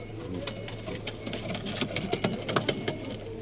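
Pigeons in a coop coo with low, steady murmurs, joined by scattered sharp clicks and taps that grow busier toward the end, moderately faint.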